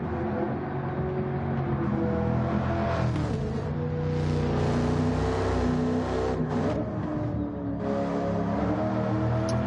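Pontiac Firebird Trans Am engine running on the Nordschleife in Gran Turismo 7, a loud, steady drone that swells as it revs, with no voices.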